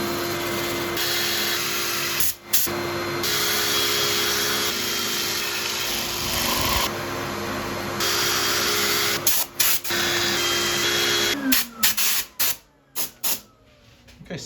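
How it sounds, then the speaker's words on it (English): A flap disc sanding the bark of a spalted elm burl, a harsh continuous abrasive whir with brief stops and restarts, ending in several short bursts. "I'm going to set up for sanding"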